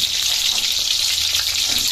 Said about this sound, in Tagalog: Yan at si Mama po nagpiprito na po.